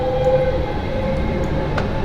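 London Underground S8 stock train on the Metropolitan Line in Train Simulator 2019, steady close rolling rumble with a brief whine fading early and faint clanks.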